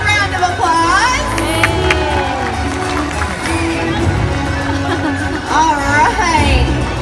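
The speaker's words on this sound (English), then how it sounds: "Let's give him a big round of applause." An audience at a SeaWorld Orca Encounter evening show, with dense crowd noise, cheering and whistles, claps and children's voices, steady and loud throughout with excited shouts rising near the end.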